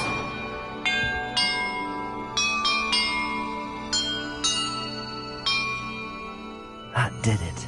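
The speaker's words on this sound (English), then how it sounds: "Perhaps the map contains clues about the order I'm supposed to ring the bells in." Bells ring in the Hogwarts Legacy video game, with about ten clear, resonant strikes at irregular intervals, each chime ringing out and decaying before the next. A final cluster of quick strikes comes near the end.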